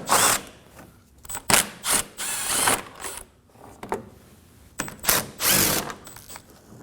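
Power tool removing three 10mm bolts from the front inner fender liner under a 2014-2020 Acura MDX with the tire off, whirring in short repeated bursts with brief pauses and clicks between them, close and fairly loud.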